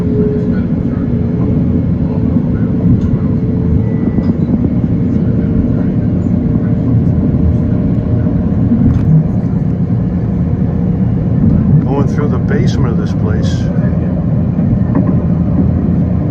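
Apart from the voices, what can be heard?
LIRR express train running to Babylon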